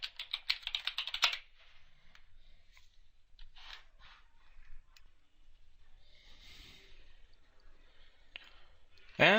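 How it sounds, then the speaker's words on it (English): A password is typed on a computer keyboard in a quick burst of clicky keystrokes at the start, followed by quieter scattered clicks, faint breathing and a final sharp key press. "Type in my password here."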